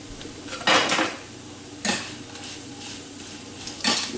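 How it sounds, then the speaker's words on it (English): Eggs cooking in a pan are stirred with a utensil, giving three distinct scraping, clattering strokes against the pan at spaced intervals over a soft, low background sizzle. "Give that another stir."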